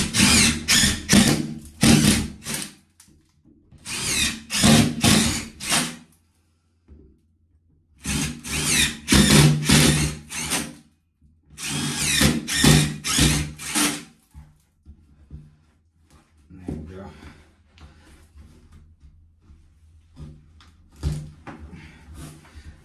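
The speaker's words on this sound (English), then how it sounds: "Now for the Bullfix fixings, it's 20 mil, so 20 mil spade bit." Power drill fitted with a 20 mm spade bit bores holes for Bullfix radiator fixings, loud bursts of whirring and grinding in several separate runs with pauses and light handling noise between them.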